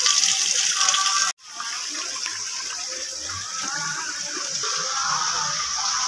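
A waterfall near a Radhakrishna temple gives off a steady, broad rush of falling water that continues without a break, apart from one brief dropout early on.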